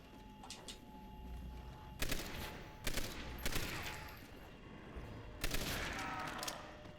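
Gunfire in the Call of Duty zombies map Shi No Numa, several loud bursts and single shots spaced irregularly over a steady game backdrop, with no talking.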